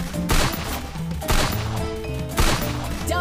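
Gunfire in the Free Fire mobile battle game rings out as three loud, sharp bursts spaced about a second apart, each trailing off under a busy layer of game sound effects.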